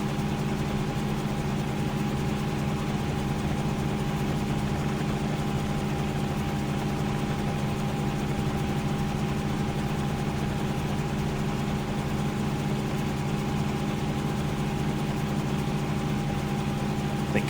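A constant, droning engine hum with a steady low whine from a Cessna CH-1 helicopter in flight in Microsoft Flight Simulator 2024 holds unchanged throughout, even and continuous with no talking.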